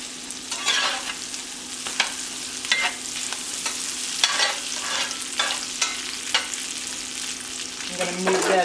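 Philly cheesesteak meat seasoned with black pepper and mineral salt sizzles in a pan, making a steady frying hiss broken by repeated sharp scraping stirs from a utensil.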